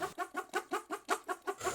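Cartoon chickens cluck in a quick, steady run of about nine short, bright clucks. The sound is fairly quiet and close, with no talking.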